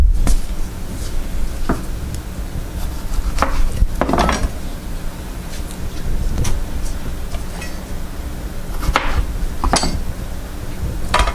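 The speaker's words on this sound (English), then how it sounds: "now we'll chop our tomatillos, our onion, and our jalapeno" Knife strikes chopping tomatillos, onion and jalapeno on a cutting board for Mexican cooking: irregular, sharp close taps spaced a second or two apart, with no talk.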